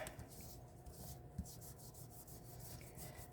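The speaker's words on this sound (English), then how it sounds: "I'm really scrubbing it in there because I want it to absorb." Cloth or brush scrubbing wax into a painted resin piece cast in a silicone mold, a faint, repeated rasping rub in quick strokes, with one small knock partway through.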